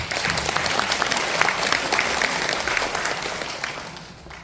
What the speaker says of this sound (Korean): 네, 박수로 맞이해 주십시오.